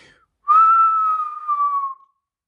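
A person whistles loudly with the mouth, the tongue pulled back, in one sustained, piercing tone of about a second and a half that sags slightly in pitch before stopping; no other sound.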